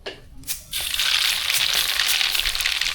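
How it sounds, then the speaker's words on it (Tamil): Dense crackling and spitting of mustard seeds spluttering in hot oil, starting abruptly and continuing steadily and loudly. "கடுகு நல்லா பொறிஞ்சிச்சு"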